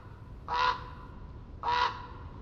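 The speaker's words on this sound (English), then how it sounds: "A raven calls out." A raven in a damp Oregon coast forest gives two loud, hoarse calls about a second apart, each a short harsh croak standing clearly above a quiet background.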